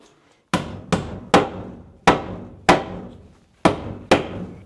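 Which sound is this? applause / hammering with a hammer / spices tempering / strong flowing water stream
hammering with a hammer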